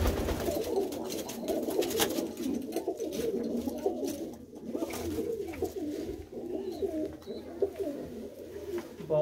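Pigeons kept as a hobby flock coo continuously in a loft, a dense, low rolling murmur of many birds close by, with occasional wing flutters and faint background noise.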